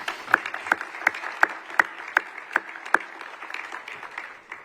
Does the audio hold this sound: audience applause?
yes